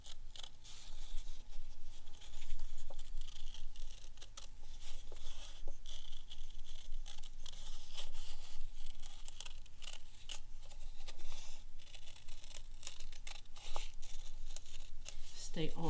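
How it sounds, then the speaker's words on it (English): Scissors cutting paper shapes out for a visual art lesson, soft snipping and paper rustling scattered at a patient pace under quiet room noise, close by. "Take your time and cut your shapes out."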